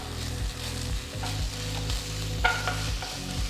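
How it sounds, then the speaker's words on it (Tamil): Onions and finely chopped green chillies sauté in a pan, a steady close sizzle broken by repeated stirring scrapes, with no voices. "பொடுசா நறுக்குன 2 பச்சை மிளகாய் சேர்த்து வெங்காயம் பொன்னிறமா வர வரைக்கும் வதக்குங்க"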